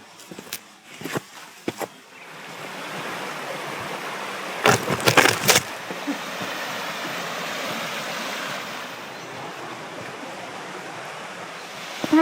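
Scout Falls pours after rain in a steady broadband rush of water that fills the scene, with a few sharp handling knocks near the start and midway.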